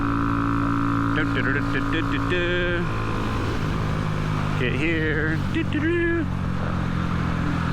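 A Honda Grom motorcycle with clutch issues is ridden along the road, its engine droning steadily with rising and falling revs and wind noise throughout, while the rider talks briefly over it.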